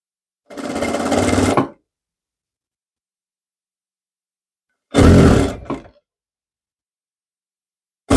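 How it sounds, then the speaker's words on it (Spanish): Sewing machine stitching a piece of a French-cut dress, two loud bursts of motor run, the first about a second long, then a shorter burst with a quick stop-start, separated by silence. "Vamos a seguir cosiendo esta pieza igual que la de la otra parte"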